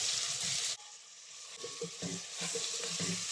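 Biryani masala frying and being stirred in a pan, a steady bright sizzle with a sudden drop partway through followed by scraping, stirring strokes under the continuing hiss.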